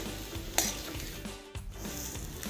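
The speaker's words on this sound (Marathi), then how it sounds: "भाजीला आपल्याला तेल अगदी थोडंसंच वापरायचं आहे आणि हे आपल्याला छान भाजी अशी परतून घ्यायची आहे" Vegetable filling for spicy kat vada sautéing in a little oil, a steady close sizzle with scraping stirs and a brief utensil clink near the start.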